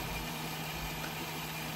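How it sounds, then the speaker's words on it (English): An HO scale Frateschi EMD G8 model locomotive runs at full throttle, giving a steady, smooth, quiet motor hum that continues without a break and without talk. "it's a very quiet, very smooth running engine"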